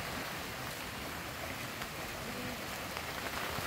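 Steady rain falling hard on Hin Kong beach, Koh Phangan, a dense continuous hiss with faint surf beneath it and no voices.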